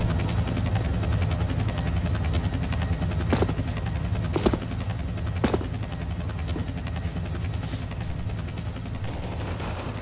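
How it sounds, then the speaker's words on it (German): Helicopter rotor noise in Counter-Strike: Global Offensive, a steady low chopping drone running throughout with a few sharp gunshot-like bangs cutting through it and no talk. "Hubschrauber."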